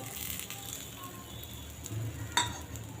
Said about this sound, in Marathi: आता आपण मिरची तव्यावर भाजून घेणार आहोत